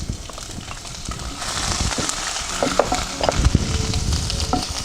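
Crushed ginger and garlic fry in hot oil for an okra curry, giving a steady close sizzle with crackles and occasional stirring scrapes that grow slightly busier toward the end.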